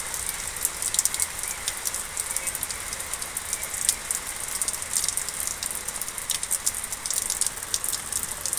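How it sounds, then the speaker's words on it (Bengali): Light drizzle falling on a morning under a cloud-covered sky, a soft, steady patter of drops on surfaces with scattered crisper ticks, even and continuous, nobody speaking. "দেখুন কি সুন্দর ঝিরিঝিরি বৃষ্টি পড়ছে"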